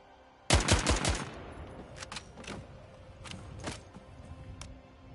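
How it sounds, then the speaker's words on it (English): Gunfire in the PS5 battle royale game Blood Hunt: a sudden burst of rapid shots, then a few scattered sharp cracks from sniper fire spaced apart, loud and close with little talk. "Where the fuck are they shooting that sniper from?"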